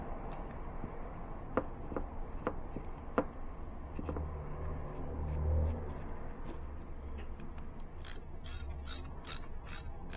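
Wrench ratcheting on the rear differential bolts of a Nissan R50 Pathfinder with an H233B limited slip unit, sharp intermittent clicks spaced apart, then a quick rapid run of ratchet clicks near the end.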